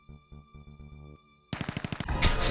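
Rapid gunfire bursts from the police video game Police Quest: SWAT, loud and dense after a stretch of electronic game tones and music, with no talking.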